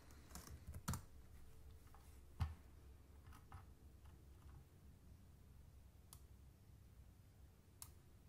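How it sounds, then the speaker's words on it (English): Quiet keystrokes on a computer keyboard patter in short bursts, with a few sharper clicks standing out, soft and near in a still room. "now I'm going to type in freelance copywriting."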